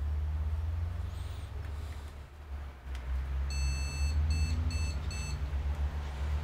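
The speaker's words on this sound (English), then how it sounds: "Oh, here we go, you heard that beep." An ASUS Prime X370 motherboard gives a short run of sharp, high electronic POST beeps in quick bursts near the end, over a steady low hum of fans and room noise.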